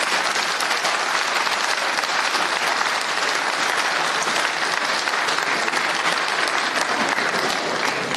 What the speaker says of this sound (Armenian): իրենց բոլորին ծափահարություններ